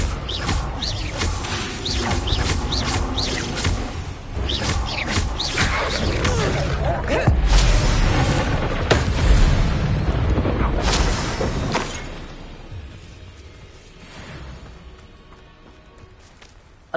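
Confringo blasting spell in Hogwarts Legacy, booming explosive bursts and crashes over a loud, busy game soundscape that fades to a quieter tail near the end.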